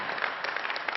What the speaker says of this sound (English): u mag er best even voor applaudisseren